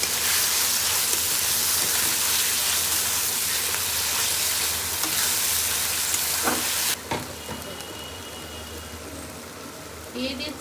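Fried fish goes into a pan of onion, ginger, garlic and cumin paste with salt, raising a loud, hissing sizzle that runs steadily, then drops abruptly to a quieter, softer fry partway through.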